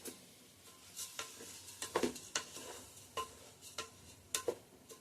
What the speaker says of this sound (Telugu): ఇట్లా ఒక 3-4 నిమిషాలు ఈ ఆయిల్లో మగ్గనిద్దాం ఈ బియ్యాన్ని